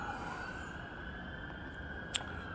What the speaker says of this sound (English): If you can hear sirens, I don't know where they're coming from or why